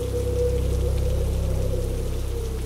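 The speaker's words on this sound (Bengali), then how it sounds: "বাইরে তখন তুমুল ঝড় বৃষ্টি।" A heavy rainstorm pours down just outside a window, a loud, dense and unbroken wash of falling water with a deep rumbling undertone throughout.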